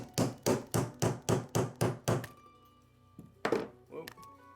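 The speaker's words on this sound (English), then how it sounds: "Take it and hammer it in very nicely," Eight sharp hammer blows drive a part into a Wahl Lister Stablemate livestock clipper in a steady rhythm, followed by a pause with faint clinks and two more scattered knocks.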